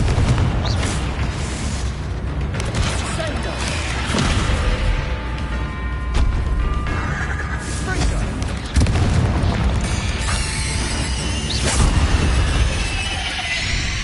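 Confringo fire spell in Hogwarts Legacy, repeated loud booming blasts and bursts mixed with game effects, with a voice speaking over them.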